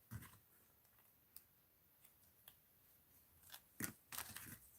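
Scissors cutting craft tape, heard as faint, sparse snips and crisp clicks at close range, ending in a few sharper cuts.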